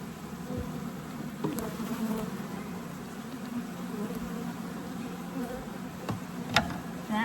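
A swarm of honey bees fills a Layens swarm trap, giving a dense, continuous buzzing hum at moderate level, with a few brief knocks and thumps from handling.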